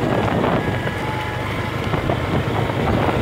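A rumbling engine drone mixed with heavy wind buffeting the microphone, like riding along on a motorcycle.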